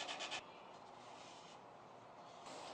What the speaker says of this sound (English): So I sanded off my patch and it turned out pretty good.